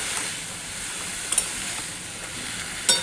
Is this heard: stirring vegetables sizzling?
yes